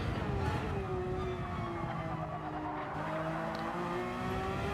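In a WEC-style sim race at Yas Marina, a race car's engine note drops smoothly as the driver lifts off and brakes, then steadies into a low, even drone. Tyres scrub faintly, and the whole thing sits at a quiet level with no voices.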